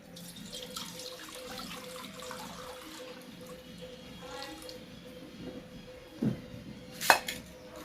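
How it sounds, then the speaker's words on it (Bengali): Water runs steadily into a pan for boiling chowmein noodles, a continuous watery wash with a couple of sharper splashes and clinks near the end, no voices. "এবার দিয়ে দেবো জল এবার দিয়ে দিচ্ছি জল"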